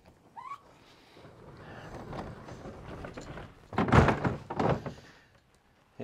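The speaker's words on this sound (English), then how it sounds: "You just lay it down, slide your kayak over top of it." A kayak is laid down and slid onto a YakAttack TowNStow kayak cart, giving a few close, hollow thumps and a short scrape near the end.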